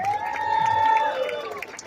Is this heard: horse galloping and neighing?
no